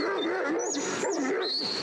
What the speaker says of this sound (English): she's got that dog laying right down there barking at those sheep